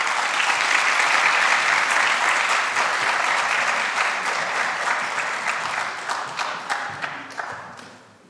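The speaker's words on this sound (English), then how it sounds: "Please give a round of applause to Brylan Goss." Sustained audience applause fills the hall at a college honors night at East Georgia State College, loud at first and then thinning out into scattered claps.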